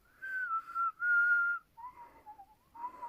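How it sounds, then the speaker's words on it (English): A person whistles a wavering tune alone, in several short phrases separated by brief pauses; the notes sit close and fairly loud, with an unsteady, slightly breathy quality. "I can't whistle very well"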